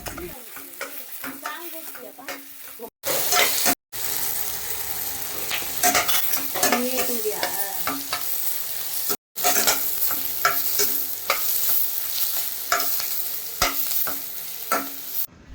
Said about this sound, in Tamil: பட்டை சோம்பு ஏலக்காய் லவங்கம் இது எல்லாத்தையும் வதக்கிக்கலாம்